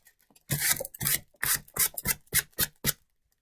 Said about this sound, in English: I was able to sand that off